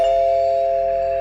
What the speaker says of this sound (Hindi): डोरबेल फिर से बजी।